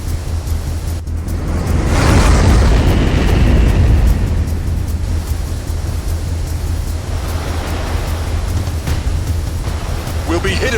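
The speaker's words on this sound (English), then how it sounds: "Incoming missiles!" Missile blasts in the mech combat game Front Mission 4 erupt as a loud, broad roaring rumble that swells around the second to fourth seconds, then settles into sustained low noise with scattered crackling and voices over it.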